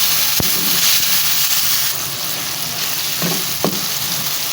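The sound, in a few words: sliced tomatoes and green chilies frying to soften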